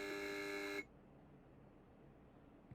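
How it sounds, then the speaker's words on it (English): A steady electronic buzzer tone sounds for under a second, then cuts off abruptly, leaving faint background hiss. "together with a buzz sound from the buzzer"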